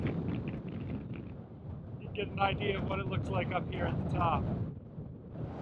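Strong wind buffets the microphone on an exposed mountain-top trail overlooking the Icefields, a steady low roar running the whole time beneath a person talking close by.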